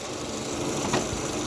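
Honda Civic Type R GT with a 2.0 i-VTEC timing-chain engine idles under the open bonnet, a steady, even mechanical hum at close range with no talk.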